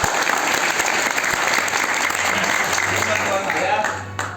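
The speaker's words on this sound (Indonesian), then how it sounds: "Tepuk tangan buat pengundang kita." Audience at a business gathering applauds loudly and steadily for the hosts, the clapping fading slightly near the end with a low hum underneath.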